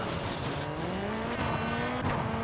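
A rally car screams at full throttle in the PS2 racing game WRC 3 on the Sanremo stage, its engine note steady and loud, climbing gradually in pitch for a few seconds without a break.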